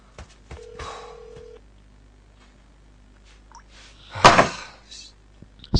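A telephone gives a single brief ring tone in a quiet room, followed a few seconds later by a sharper, louder clatter.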